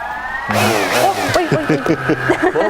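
Small motors whine and rev in short, rising bursts, their pitch climbing and dipping repeatedly at close range.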